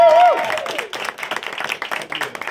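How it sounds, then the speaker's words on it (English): An audience in a small radio studio applauds a rock band, brief scattered clapping that fades quickly after a short voice at the start. "Give him a big round of applause."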